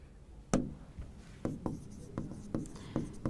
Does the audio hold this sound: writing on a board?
yes